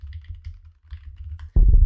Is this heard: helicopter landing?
no